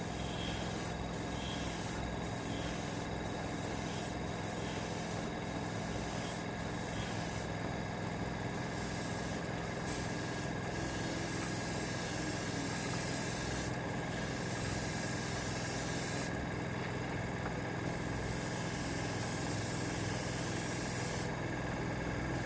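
Airbrush spraying paint onto a Trumpeter Bf109K-4 scale model, a steady close airy hiss running throughout with brief rhythmic interruptions, no talking.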